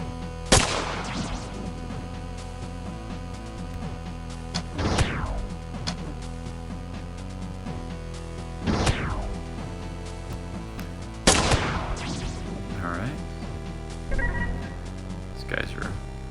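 Gunfire in the video game MazeQuest 3: four sharp, loud shots spaced several seconds apart, each with a falling tail, over a steady synthetic game background.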